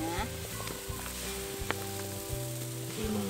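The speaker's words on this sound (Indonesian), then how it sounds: "Biasa nih bumbu udah mendidih, kita masukin aja kepala ikan patinnya." Spicy asam padeh broth boils in a pot as a patin catfish head goes in, a constant hissing, bubbling sizzle with scattered small knocks and splashes close by.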